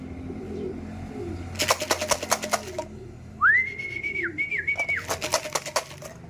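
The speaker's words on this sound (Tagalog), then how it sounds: "Ba't ang lakas ng ibon natin?" Pigeons call loudly and close by, with rapid clattering wing flaps in two bursts and a rising, wavering whistle-like call in between over a quiet background.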